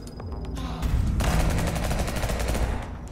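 Gunfire in a noir cyberpunk 2D side-scrolling shooter game bursts into a dense, continuous volley of rapid shots over heavy low-end booms. It is loud and sustained for several seconds.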